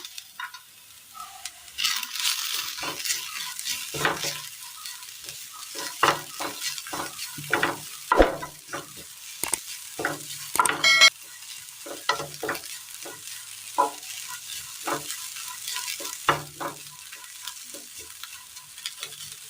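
Cooked lentils with chopped ginger frying in a pan for a Kerala dish, a low sizzle punctuated by frequent clacks and scrapes of a spoon stirring, close and steady throughout without voices.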